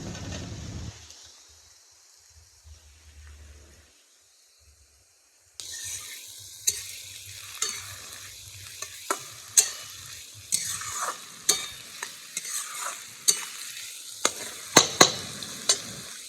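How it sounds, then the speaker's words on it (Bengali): Potato and onion fry together in a wok, a quiet sizzle at first, then a louder, steady hiss and crackle with repeated sharp scraping and clanking from stirring; no one speaks. "পেঁয়াজটার সাথে আমরা আলুটা দিয়ে দেবো,"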